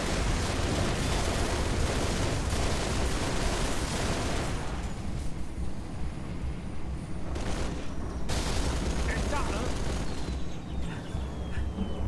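Dense, continuous enemy gunfire and booming blasts roar through a Halo: Reach battle, loud and unbroken throughout with a slight dip in intensity partway through.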